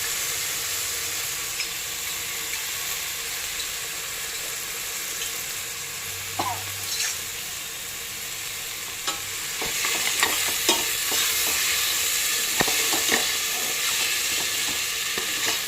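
Masala with ginger garlic paste being stirred in a hot pan for mutton keema biryani, a steady sizzle and frying hiss with scraping spoon strokes growing more frequent toward the end.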